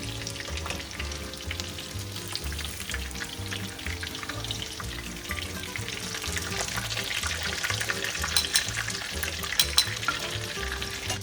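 Schnitzels fry in a pan with a constant crackling sizzle that swells louder toward the end as they are flipped, close up and with no talking.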